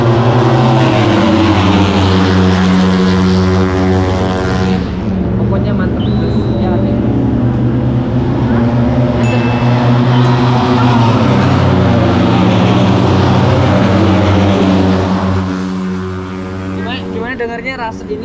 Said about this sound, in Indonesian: Ini motor kelas 250cc, paling pelan ini motor.